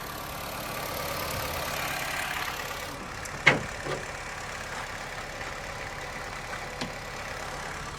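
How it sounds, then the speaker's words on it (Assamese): A Honda City CVT car in good condition idles with a steady, low engine hum, heard from a short distance. A brief click and a couple of faint taps sound over it, with no voices. "ইঞ্জিনৰ চাউণ্ড টাউণ্ড গাইজ আপোনালোকে একো ইছ্যু নাপায় গাড়ীখনত"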